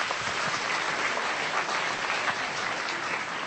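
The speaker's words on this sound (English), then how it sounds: "Another round of applause," An awards ceremony audience claps steadily, a broad, even roar of applause from a room full of guests that holds at one level throughout with no voices on top.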